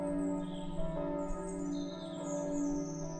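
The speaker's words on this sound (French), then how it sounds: "Les cloches, au loin, du septuaire de Rebriand résonnent" Church bells ring steadily in the distance, their tones layered and sustained, with faint bird chirps drifting above.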